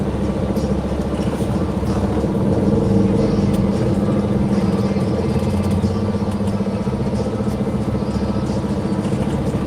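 A Peterbilt roll-off truck rumbles past nearby, its steady diesel engine drone holding loud and even for several seconds with no talk over it.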